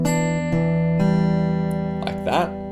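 Acoustic guitar picked in a steady fingerpicking pattern over an open low E sixth-string bass note, close and clear, with sustained ringing chord tones and a brief vocal-like sound near the end.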